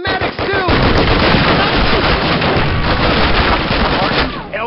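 Dense, continuous gunfire from Call of Duty fills the whole stretch, loud and close with rapid overlapping shots and bursts, machine-gun rattle blending into a constant battlefield roar, with voices faintly shouting beneath it.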